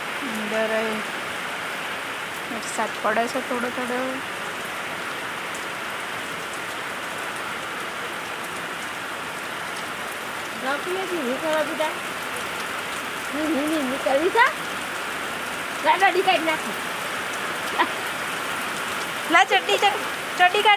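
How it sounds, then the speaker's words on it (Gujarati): Heavy rain pouring steadily onto a village courtyard, a constant close hiss of drops, with people talking intermittently over it. "ચાલુ વરસાદમાં રોટલી બનાવું છું"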